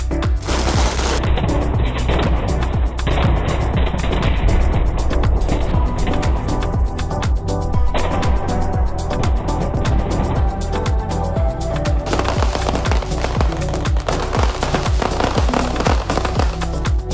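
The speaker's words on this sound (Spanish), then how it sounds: "Con una buena traca y una gran explosión, arde el monumento mayor." A long string of firecrackers at the Fallas in Valencia bursts in rapid, crackling succession as the main monument burns, loud and continuous, with heavier bangs toward the end.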